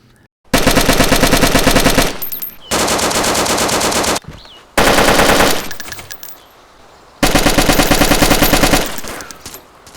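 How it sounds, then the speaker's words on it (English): Four loud bursts of rapid full-auto fire from four AK rifles in the game DayZ, each lasting a second or two, separated by short gaps and echoing tails. "Here's all four AKs during full auto fire."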